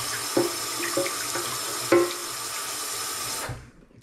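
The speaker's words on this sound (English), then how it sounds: "Let's just give it a rinse, why not?" A kitchen sink faucet runs in a steady hiss while a spatula is rinsed under it, with a few clinks against the basin, before the water shuts off abruptly near the end.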